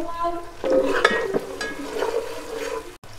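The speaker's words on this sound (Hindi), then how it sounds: "अब मैं इसमें टमाटर डालूंगी और साथ ही हरी मिर्च भी डाल दूंगी।" Tomatoes and green chillies go into a pan for a kadhi pakora base, with a wet hiss, bubbling and stirring nearby and a brief gap near the end; no voices.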